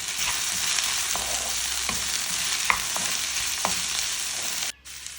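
Ginger, onion and garlic sauté in a hot pan with a steady, close sizzle, broken by repeated scraping stir strokes; the frying noise dips abruptly near the end.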